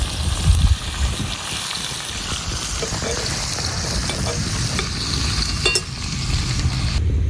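Garlic and vegetables fry in a hot pan at a campsite, giving a steady hissing sizzle with occasional stirring scrapes.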